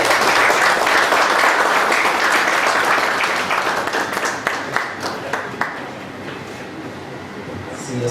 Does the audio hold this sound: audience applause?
yes